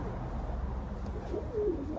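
Soft, low pigeon cooing close by, a brief throaty call over a faint background hum.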